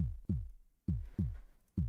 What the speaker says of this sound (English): why is my heart beating so loud?